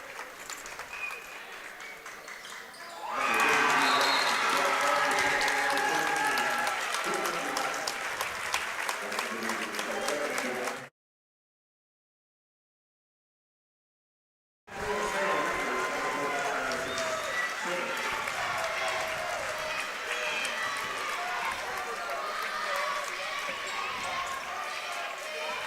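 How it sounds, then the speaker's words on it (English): Fans at a girls' basketball sub-state championship, Bennington against Inman, rise in a loud standing ovation, with sustained applause and cheering that swells after a quiet start, a brief gap of silence, then more clapping and crowd noise. "they'll get the standing ovation from the fans"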